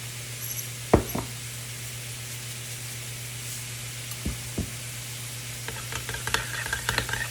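Faint scraping taps from a spoon stirring a sauce of sour cream, Dijon mustard, salt and pepper, with a few light clinks over a steady low hum and no talking.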